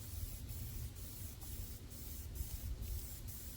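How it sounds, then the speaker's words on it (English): A spray can applies a quick camo coat to rifle accessories in short repeated bursts, each a close hissing blast separated by brief gaps at a steady rhythm. "And I'm also going to do the accessories as well. So just going to give a quick coat on those."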